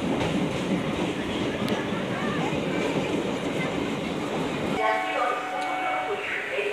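A circular railway train on the Dum Dum to Majerhat line pulls into Kolkata station with a loud steady rumble of wheels and carriages, ending as a tonal chime or horn-like sound rises near the end.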